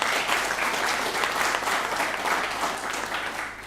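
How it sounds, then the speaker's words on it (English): An audience applauds at a book launch in a steady burst of clapping for several seconds. The clapping is moderately loud and fades slightly toward the end. "So a big round of applause to the Felons."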